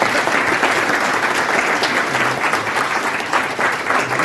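Loud, dense applause from a crowd at an IT team award event honouring students in Raipur, a sustained burst of many hands clapping for several seconds with faint voices underneath.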